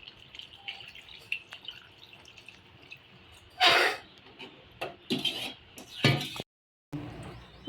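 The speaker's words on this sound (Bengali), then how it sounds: "আমি এবার এটাকে জল দেব, চিকেনে এবার জল দেব।" Water is poured into a pan of chicken curry with potatoes: a close, splashy gush, then further bursts of pouring and sizzling clatter separated by quiet gaps, with no talking.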